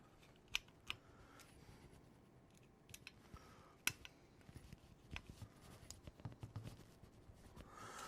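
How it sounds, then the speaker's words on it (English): A PH00 screwdriver turns 2x6mm screws into metal model parts, giving faint, close, irregular small clicks and scrapes over quiet background. "So for these, I'm going to be using a PH00 screwdriver"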